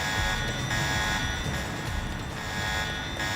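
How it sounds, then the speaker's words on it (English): A security alarm in the Deus Ex video game, set off inside the Hell's Kitchen sewers and NSF warehouse, drones loudly and continuously as a steady electronic buzzing tone with layered harmonics. "He set his own alarm off by walking through his own alarm."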